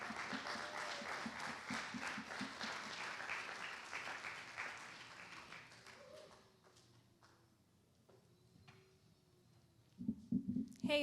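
Audience applause at a Black Arts showcase as a poet is called to the mic, sustained clapping that swells and then fades out, followed by a few scattered sounds and a renewed burst near the end.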